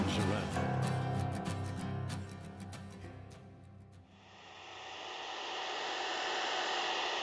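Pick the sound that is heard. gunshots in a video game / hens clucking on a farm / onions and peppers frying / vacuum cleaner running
vacuum cleaner running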